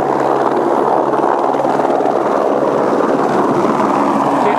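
A loud, steady helicopter drone fills the air, a constant whirring roar that holds at the same level from start to finish.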